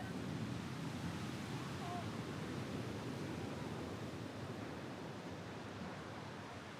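Sea waves strike steep, nearly vertical cliffs along the wild Corsican coastline, heard as a constant broadband roar of surf mixed with wind buffeting the microphone, moderately faint and continuous without distinct individual breaks.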